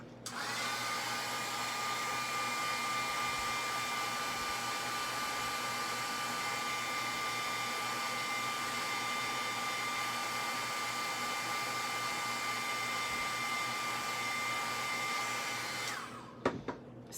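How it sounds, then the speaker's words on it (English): A heat gun blows a steady, close whine and rush of air over ink on a card for about sixteen seconds, then clicks off. "So I'm going to hit it with the heat gun real quick."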